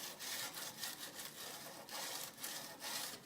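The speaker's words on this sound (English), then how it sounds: "this part and hand sanding the handles is the glorious part of knife making" Hand sanding of a wooden knife handle, a rhythmic back-and-forth scraping of about eight strokes, close and faint, alone with no talking.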